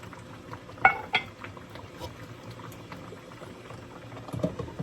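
Liquid juices poured into a simmering pan of pepper steak bubble softly, with a couple of brief utensil clinks against the pan.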